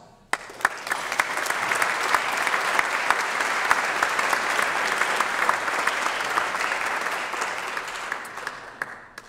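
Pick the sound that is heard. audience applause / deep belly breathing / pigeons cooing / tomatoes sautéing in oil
audience applause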